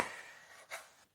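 Spatula scraping along the bottom of an aluminium jalousie window frame, giving two short, faint, close rubbing strokes with no talk.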